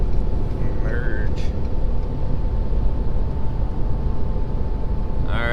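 Ford Powerstroke diesel pickup cruising at highway speed, a steady low road and engine drone filling the cabin throughout, with faint brief tones near the start and end.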